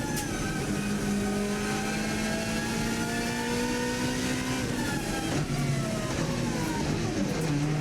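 Onboard race car engine at a record-setting Isle of Man TT lap, a loud continuous drone that holds steady, then shifts pitch as it downshifts toward a tight hairpin, heard close up with no talking.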